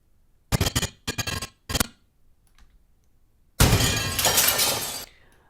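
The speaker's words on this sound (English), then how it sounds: "maybe I break through a plate glass and it makes all that sound" Plate glass breaking as a sound effect: three short, sharp shattering crashes in quick succession, a pause, then a longer, loud burst of breaking and tinkling glass that tails off.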